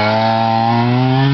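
A 1974 125cc dirt bike engine buzzes loud and close with the muffler on, a steady high-pitched two-stroke-like whine climbing slightly as the bike takes off.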